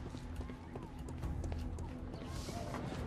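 Horse hooves clip-clopping in Sherlock Holmes: The Devil's Daughter, a quick regular patter of hoofbeats that runs throughout, with a faint whinny near the end.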